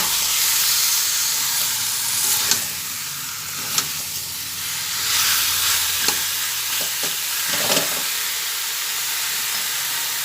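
Chicken fries in a pan while being stirred, salt just added, giving a loud continuous sizzle broken by occasional scraping knocks of the stirring spoon.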